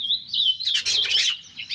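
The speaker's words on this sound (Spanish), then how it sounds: "Ahí es el jilguero amarillo, el llamador." A saffron finch sings nearby, a bright, high chirping phrase with rapid warbling notes, clear and alone.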